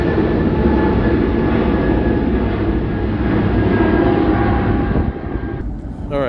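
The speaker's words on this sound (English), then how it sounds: "There's an airplane passing by." An airplane passes overhead outdoors, its loud steady engine roar filling the whole stretch before thinning and fading near the end.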